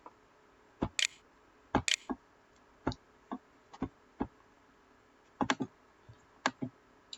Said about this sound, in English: I would type a lot faster if I could, but my keyboard doesn't allow me